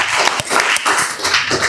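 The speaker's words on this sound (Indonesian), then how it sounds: "Oke, tepuk tangan, apresiasi." A classroom of students claps after a group presentation, a short loud burst of uneven applause with clap clusters pulsing for under two seconds.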